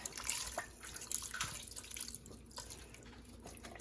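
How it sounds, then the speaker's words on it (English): Chicken stock is poured into a pot of cooking vegetables, a faint, soft splashing trickle with small dripping splashes, quiet and unbroken by talk. "I'm going to hit it with my chicken stock"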